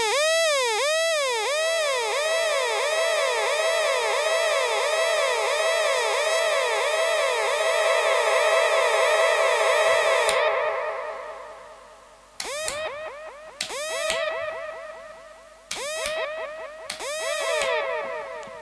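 A dub siren effect sends out rapid, repeating rising sweeps soaked in reverb and delay, looping steadily for about ten seconds, then firing in short separate bursts whose echoes trail off between them.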